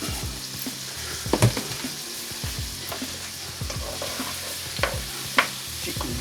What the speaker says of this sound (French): Petit coup de mélange.